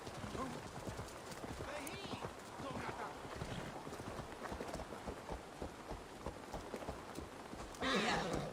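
Horse hooves clip-clop at a gallop in Assassin's Creed Valhalla, a steady rapid rhythm running under nearby talk and game ambience, ending in a louder burst of noise.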